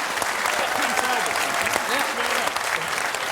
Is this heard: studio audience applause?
yes